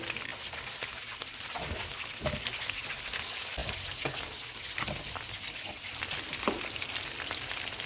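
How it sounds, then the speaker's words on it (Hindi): Steady crackling and sizzling of green chillies frying in hot oil, close and continuous, with scattered sharper pops and no voices. "सब्ज़ मिर्चें डालेंगे, इनको 2 मिनट तक फ्राई करेंगे"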